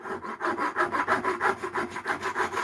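A hand pull saw cuts through the protruding end of a screw held against a wooden block, giving a steady rhythmic rasp of about a dozen quick back-and-forth strokes, close and fairly loud with no talking.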